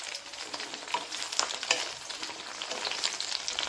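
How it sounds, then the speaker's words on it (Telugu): Oil sizzles steadily in a pan as tomatoes for chutney fry while being stirred, a soft continuous crackle with occasional scraping clicks of the spoon, fairly quiet and without talk. "ఇలా తిప్పుకుంటూ వేయించుకోవాలి"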